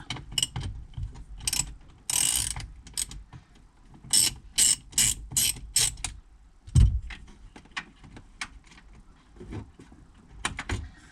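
Bursts of ratchet clicking as a wrench undoes the bolt on the 12V battery terminal of a 2013 Toyota Estima Hybrid AHR20, close and crisp, in short rhythmic runs separated by pauses and a clunk.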